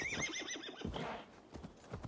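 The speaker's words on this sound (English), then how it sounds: "That horse crossed the seas" A horse in Assassin's Creed Valhalla gives a loud whinnying neigh up close, followed by the rhythmic clip-clop of its hooves.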